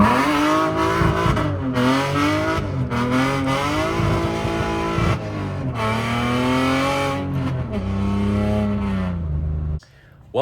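A BMW E46 fitted with a hydraulic inline handbrake revs hard with rising and falling engine pitch and tire squeal as the wheels lock up, loud and close throughout, cutting out briefly near the end.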